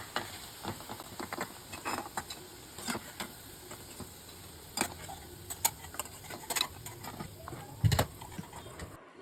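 Lauki kofta balls frying in oil give a faint, continuous sizzle dotted with small ticking pops and occasional soft clinks of a utensil, heard at low level throughout.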